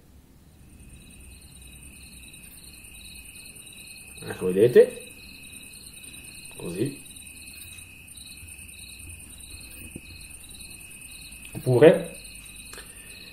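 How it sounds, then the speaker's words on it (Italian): Night countryside ambience played from a Google Home smart speaker, with crickets chirping in a steady high, even pulse throughout as a person talks briefly over it three times. "Ecco il suono della campagna di notte."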